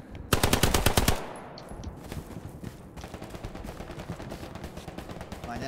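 Gunfire in the World War II shooter game Hell Let Loose: a loud close machine-gun burst of rapid evenly spaced shots for about a second, followed by a steady wash of more distant battlefield fire and rumble.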